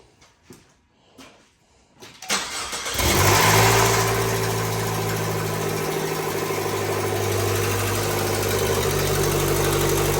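A turbocharged 2015 Chevy Trax engine starts up right after an exhaust manifold and flex pipe gasket repair: some faint clicks and cranking, then it catches and settles into a loud, steady idle that holds to the end with no talk.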